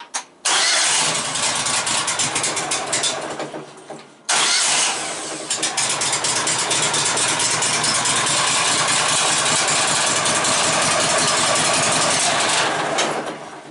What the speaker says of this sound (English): so you'll see what it's like to get the Woodmizer started